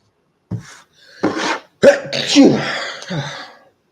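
A few sharp, explosive bursts like sneezes or coughs, close and loud, spaced across a few seconds with brief breathy sounds between.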